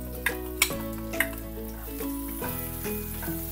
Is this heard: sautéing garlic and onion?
yes